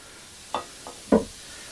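Batter of orange juice and baking soda stirred in a bowl, a few soft separate scrapes and knocks of the spoon against the side, close and fairly quiet with near silence between.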